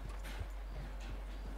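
Horse hooves clip-clop in the Red Dead Redemption 2 video game: a short run of soft, evenly spaced hoof falls over steady background noise, moderately close and fairly quiet, with no talking.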